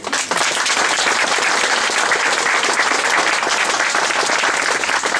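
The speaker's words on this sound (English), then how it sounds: "please give him an applause again" Loud, sustained applause from a large crowd, dense clapping that fills the whole clip without pause.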